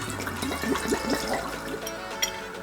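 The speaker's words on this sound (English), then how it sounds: "First, I put 1 liter of water." Water gushes and splashes continuously for a few seconds, a close, full pouring sound of 1 liter going into a pot.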